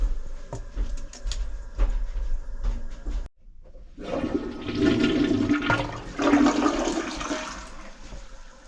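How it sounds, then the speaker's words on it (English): A toilet flushes in a home bathroom, a close rushing gurgle of water that swells loudly after a few seconds of quieter clatter and handling noise. "Flushing toilet."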